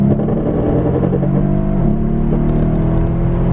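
Full-throttle acceleration from a 600 hp 2015 Mercedes E63S AMG, a loud, steady engine roar with rising harmonic tones and a brief shift dip midway, sustained throughout.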